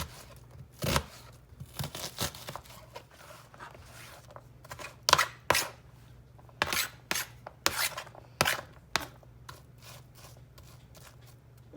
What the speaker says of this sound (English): now we're going to cut up one onion for our hash brown casserole.